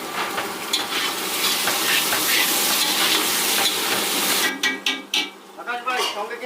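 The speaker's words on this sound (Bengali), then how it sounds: "মশলাগুলো কিন্তু মোটামুটি ভাজা হয়ে গেছে। এবার মাছের জন্য যে আলুগুলো ছিল ওগুলো দিয়ে দিচ্ছি" Potatoes tipped into a pan of spices and garlic frying in oil, sending up a loud, steady sizzle with stirring. The sizzle drops away near the end, leaving scattered scrapes and clatters.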